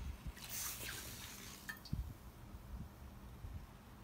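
Water poured from a Nalgene bottle onto a lit match, giving a short splashing gush followed by scattered drips and small wet patters, close up with no talking.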